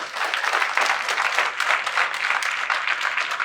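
A crowd at an RHDP youth movement rally in Yopougon, Côte d'Ivoire, claps loudly in uneven bursts, a close, dense patter of hands that pulses for a few seconds.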